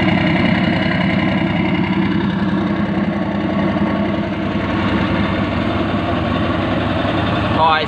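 A truck engine idles steadily with a deep exhaust rumble, close and loud throughout while the vehicle waits in a queue to load sand.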